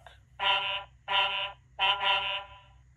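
A semi truck horn blares three times, each loud, separate honk lasting about half a second, with short gaps between them and nothing else heard.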